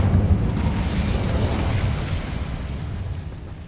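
A fiery burst from an Incendio spell cast in Hogwarts Legacy, a loud whooshing roar that swells at once and then slowly fades away over a few seconds, with no voices.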